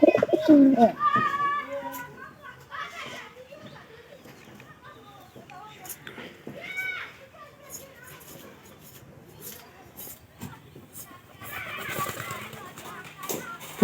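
Pigeons cooing close by in a pair being encouraged to mate, soft repeated coos and rustling between quieter stretches, with some faint talk at points.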